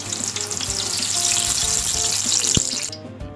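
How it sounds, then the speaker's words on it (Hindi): Eggplant frying in hot oil, a loud close continuous sizzle and crackle with a brief knock near the end before it cuts off. "इसी तरह बाकी जो बचे हैं सारे बैंगन को फ्राई कर लेना है"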